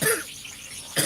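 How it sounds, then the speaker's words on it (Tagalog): Two bursts of coughing at the start and end of a short gap, close and fairly loud, from a cook sweating through preparations for a team Christmas party. "inuubo na"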